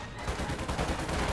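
Infantry gunfire rattles in the Company of Heroes 2 real-time strategy game, a dense continuous crackle of rifle and machine-gun bursts mixed into busy battle noise.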